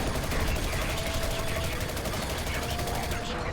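Continuous rapid gunfire in the video game The Chronicles of Riddick: Escape from Butcher Bay rattles through the whole stretch, dense and loud, with a steady electronic hum underneath.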